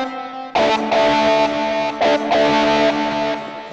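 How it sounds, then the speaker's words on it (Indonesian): A Yamaha keyboard playing its distorted electric guitar voice: sustained, buzzy power chords struck in a few loud stabs with brief breaks between them, close and clean with no talking. "gitar distorsi"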